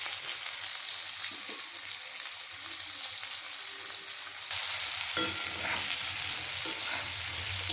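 Chopped onion frying in oil with whole garam masala and two bay leaves, a continuous hissing sizzle that swells louder midway, with occasional stirring knocks, no voices.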